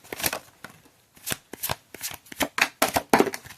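Tarot cards being shuffled in a series of crisp riffling bursts with short pauses between them, close up and fairly loud, with no talking.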